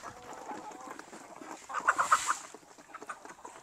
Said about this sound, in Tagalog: Napakagandang hen. Black Australorp.